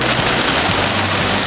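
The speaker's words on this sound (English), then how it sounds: "I hope you can hear over top of this all the hail that's going on and the rain. It's raining extremely hard out." Heavy rain mixed with hail pounds down outdoors in a loud, unbroken wash of dense hiss and patter, with no pauses through the stretch.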